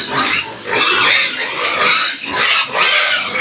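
Many pigs in a fattening pen grunt and squeal together in a dense, continuous chorus, close and loud, with no talk over it.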